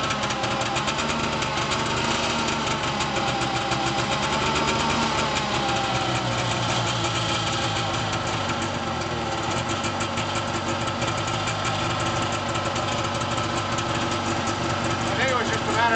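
A 1989 Arctic Cat Jag 340 snowmobile engine idles steadily at its first start of the season, a continuous loud mid-pitched rumble with faint knocking texture, with people talking over it.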